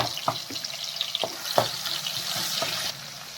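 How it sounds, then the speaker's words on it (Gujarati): Garlic ginger paste frying with cumin seeds in hot oil gives a steady crackling sizzle close up, punctuated by a few soft spoon taps against the pan. "જીરું તતડી ગયું છે, તેમાં લસણ આદુની પેસ્ટ શેકી લઈશું"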